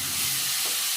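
Clams' base is sautéed in a home kitchen in Bahrain, with a steady, loud sizzle and hiss of ingredients in hot oil filling the short moment, no voices over it.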